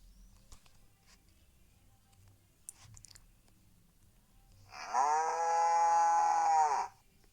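A cow moos in a video game, one long, loud, sustained tonal call after a few seconds of quiet clicks and faint background noise.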